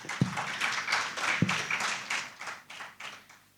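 Scattered clapping from an audience at a women in tourism event in Africa, irregular and fairly faint, a few sharp nearby claps standing out before it thins and fades.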